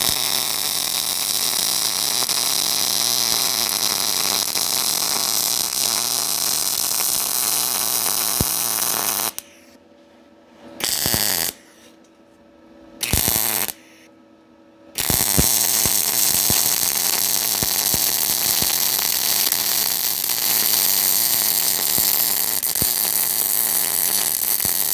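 A DecaPower PMCT-205 MIG welder running at about 135 amps on 220 volts across eighth-inch steel, a loud steady crackling buzz broken by three short pauses between bead runs.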